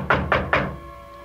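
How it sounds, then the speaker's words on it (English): Three firm knocks on a door in a radio drama sound effect, evenly spaced and close, each a dull hollow thud that rings out briefly before fading to quiet, with no voices. "I heard this rapping at the door."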